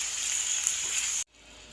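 Tomatoes and chilies sizzle in a pan for an egg and onion dish, a steady close frying hiss that cuts off abruptly near the end, leaving faint quiet.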